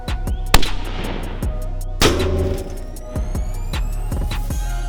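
A 5.56 FMJ rifle round is fired at a homemade twin-turbo V10 tank, giving loud close shots and booms over a constant low rumble with metallic ringing tails.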